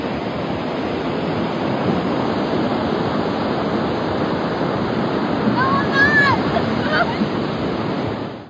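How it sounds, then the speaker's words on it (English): Continuous rush of ocean surf at Seminyak Beach, Bali, as someone runs through the water, with heavy wind noise on the microphone, a brief high squeal near the end, and faint voices underneath. "I'm running like through the water."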